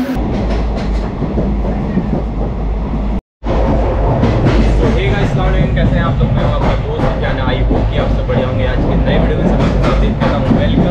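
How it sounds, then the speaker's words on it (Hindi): The Chennai Express train rolls along the rails between Mumbai and Pune, a loud, steady rumble with rhythmic clickety-clack of wheels close by, broken once by a brief dropout. "यहाँ पे ट्रेन स्लो हो गई है, तो आवाज़ भी थोड़ा ट्रेन की कम हो गई"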